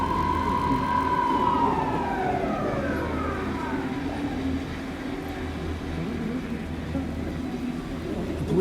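Police car siren in Alan Wake 2, a loud wailing tone that sweeps downward and fades into a steady rumbling background, with no one talking.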